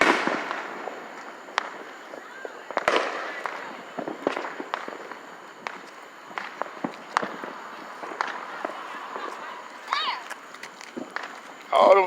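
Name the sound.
fireworks and firecrackers going off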